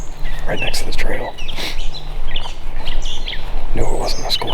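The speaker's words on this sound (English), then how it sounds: "Turned out to be a large flock of very small birds" A large flock of very small birds near a woodland trail in Pennsylvania, giving scattered high chirps and tweets that come and go nearby, over a steady outdoor background.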